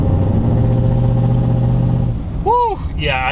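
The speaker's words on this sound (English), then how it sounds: "It sounds cool revving it, but yeah, that does not sound cool." A leaned-out, straight-piped tow truck engine runs loud and steady with a deep rumble, then rises into a brief rev near the end, with rough, raspy exhaust tones.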